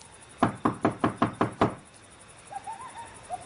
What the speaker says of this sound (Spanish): Llamó a la puerta de la calle